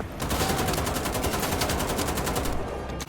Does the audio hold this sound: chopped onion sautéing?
no